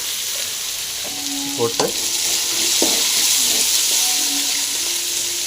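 Crushed garlic frying in hot oil with mustard seeds and green chillies, a steady close sizzle throughout with a few stirring scrapes of the spoon, and a brief word spoken once.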